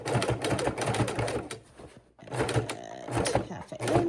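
A sewing machine stitches binding onto a quilt in a run of rapid mechanical clatter, pauses briefly, then starts again, close and steady.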